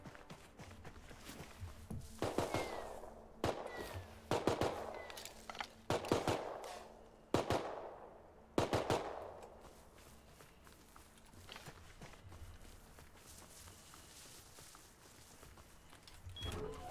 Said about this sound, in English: Loud ass scientist just firing his goddamn gun